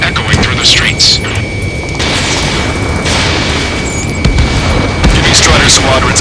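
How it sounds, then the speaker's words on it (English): Loud, dense rumble of gunfire bursts and roaring jet engines in the video game Ace Combat 7: Skies Unknown, blending into a continuous chaotic din, with booming blasts punctuating the noise. "Gunfire and the roar of jets echoing through the streets."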